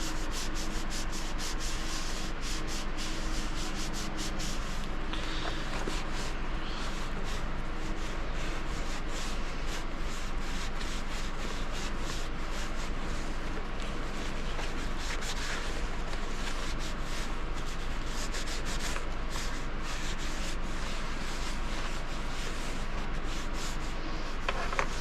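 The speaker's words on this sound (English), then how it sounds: "I'm just going to clean my surfaces with this." Napkin wiped over climbing helmet surfaces, a steady close scrubbing and rubbing that continues without pause, dense and papery, with no talk.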